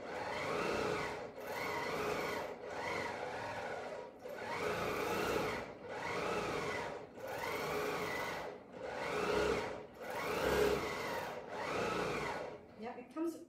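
BERNINA Q24 longarm quilting machine stitching fabric on a quilting frame: a steady motor whir runs in repeated bursts about a second long, rising and falling as the needle drives, close and fairly loud with no talk.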